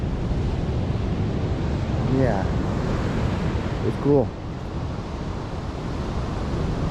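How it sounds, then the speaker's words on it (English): Ocean waves breaking and washing in steadily at Jetty Park beach in Fort Pierce on Hutchinson Island, a continuous surf roar with wind buffeting the microphone, while someone speaks briefly over it. "watch the waves. Some big waves."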